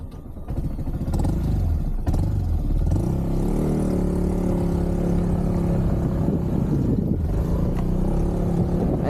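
A Skygo KPV150 adventure touring scooter engine hums and revs close by, with rattles and clatter from a bumpy ride over uneven ground.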